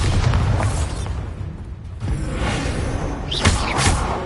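Bombarda spell explosions in the video game Hogwarts Legacy: loud, continuous booming blasts with whooshing bursts, a brief dip in the middle, then fresh sharp impacts near the end.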